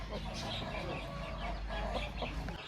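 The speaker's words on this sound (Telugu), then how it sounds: "నా ఈ పుంజు గురించి చెప్పన్నా" A rooster around eleven months old clucks close by amid a busy, noisy outdoor background at a pet market in Nellore, with soft bird calls and low murmuring throughout.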